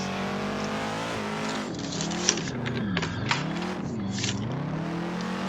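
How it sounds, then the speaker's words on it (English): A Ford Mustang drift car at E-Town revs hard through second and third gear, its engine note rising and dipping with each shift while brief tire chirps and squeals cut in near the handbrake entry. "So straight into second and third. Take it easy in third gear, handbrake entry."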